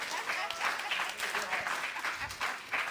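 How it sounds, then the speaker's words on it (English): An audience at a Juneteenth talk applauds, a soft, fairly distant patter of clapping that runs throughout, with a voice speaking over it. "Y'all give her a round of applause."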